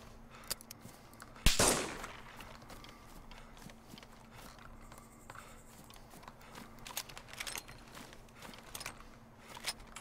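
A single sharp gunshot in the DayZ Standalone video game cracks out near the start, followed by quieter footsteps, clicks and ambient game noise with no talking.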